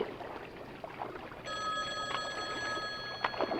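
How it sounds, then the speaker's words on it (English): A payphone rings with a steady electronic bell tone that starts partway through and keeps going, fairly clear against a low room hum with scattered faint rustles. "John, the payphone, that's here for some reason. It's ringing."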